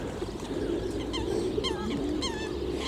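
Geese honking in a short rising series of calls over a low rumbling background, fairly close and repeated several times.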